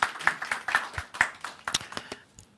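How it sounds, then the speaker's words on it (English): Audience applause at an education forum in Tallinn: a burst of brisk clapping that thins into scattered claps and fades out within a few seconds. "Let's give another warm applause for Kaiti."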